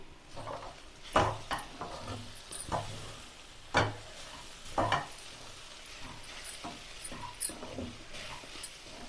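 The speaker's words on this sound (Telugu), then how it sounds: "చాట్ మసాలా ధనియాల పౌడరు కొంచెం పసుపు వేసుకొని ఫ్రై చేసుకున్నాం" Sweet corn fried in a pan with chaat masala, coriander powder and turmeric gives a steady low sizzle. Several sharp scrapes and clacks of a spoon stirring against the pan stand out above it, and no one speaks.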